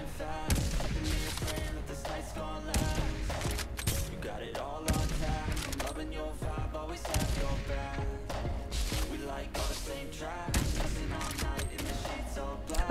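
Rapid gunfire bursts and impacts from a Farlight 84 battle-royale match, including sniper rifle shots, crack out repeatedly and loud over a dense, continuous backdrop of game music and effects.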